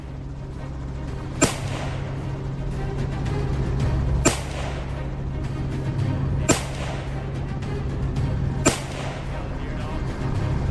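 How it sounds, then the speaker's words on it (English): Gunfire from hog-hunting teams on a farm hillside sounds as four sharp cracks, each about two seconds apart, over a steady background rumble. "Gunfire echoes from the surrounding teams"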